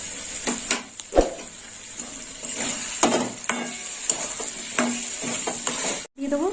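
Cashew paste fries in hot oil for a green-banana ball curry while a spoon stirs it, giving a steady sizzle broken by scraping strokes against the pan, then a brief pause near the end.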